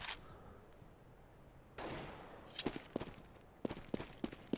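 Gunfire in a Counter-Strike match: faint, scattered sharp shots and short bursts, some clustered near the end, with no voices heard.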